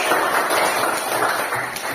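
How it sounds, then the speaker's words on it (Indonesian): A classroom of pupils applauding a classmate, a steady dense patter of many hands clapping at once for two seconds, fairly loud and close with no talk over it. "Tepuk tangan untuk Marlita."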